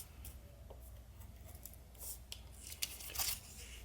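Scissors snipping through a felt leathercraft pattern for a leather or sheepskin ornament, a few faint, close crisp cuts and rustles over a quiet background.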